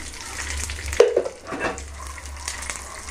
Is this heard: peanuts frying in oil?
yes